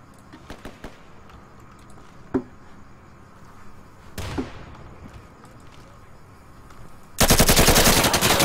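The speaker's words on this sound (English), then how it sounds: "I shot him so many times!" Gunfire in the tactical shooter game Insurgency: scattered single shots early on, then a loud sustained burst of rapid automatic fire in the final second, with no talking.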